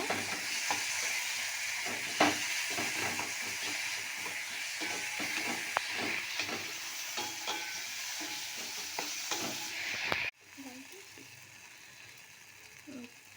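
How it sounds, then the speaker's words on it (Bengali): Tomatoes frying in spice masala for a Mysore-style gobi manchurian, a steady close sizzle broken by repeated scraping and stirring clatters of a spoon in the pan, ending abruptly into quieter cooking. "যে টমেটো এটা দিয়ে দেবো এবার এটা খুব ভালো করে ফ্রাই করব"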